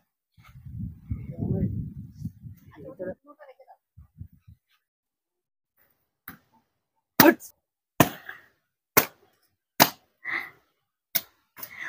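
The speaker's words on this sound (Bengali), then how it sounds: "বাবা নারকেল গুলো একটু তুমি কেটে দাও" Mature coconuts are hacked open with a blade: after some murmured speech and soft handling at the start, roughly seven sharp, loud cracking blows land at irregular intervals, each a short dry crack.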